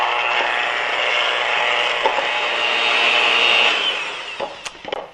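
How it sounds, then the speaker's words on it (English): Butter being creamed for cupcake frosting with an electric mixer, a steady loud whir running for about four seconds, then tapering off into a few clinks and knocks against the bowl. "I'm going to start making the frosting by creaming this butter for about 30 seconds"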